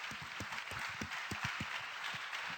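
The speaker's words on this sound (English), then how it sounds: "please give him a big round of applause" An audience at the Renault RS16 Formula One car launch applauds Alain Prost, a steady even patter of clapping from a crowd, fairly faint and distant, with no voices over it.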